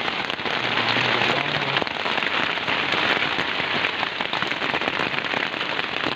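Heavy rain drums steadily and loudly on a hut roof overhead, a dense continuous patter with no voices.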